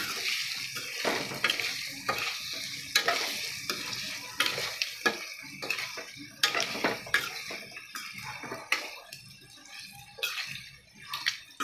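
Egg masala for egg biryani being stirred and fried in a pan: a steady oil sizzle broken by repeated scrapes and clinks of a spatula against metal, close and fairly loud, with no talk.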